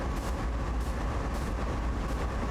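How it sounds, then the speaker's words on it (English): A freight train rolls along steadily in Train Sim World 2 on the Sand Patch Grade route, a continuous low rumble with a faint rhythmic clatter of wagons, at a constant level throughout. "Yeah, entire train is moving."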